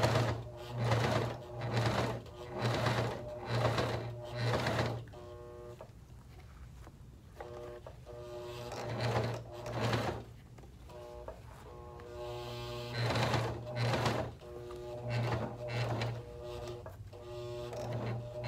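Janome sewing machine stitching leather for moccasin boots, a steady mechanical whirring run in several bursts of a few seconds each, with short pauses and a low hum between them.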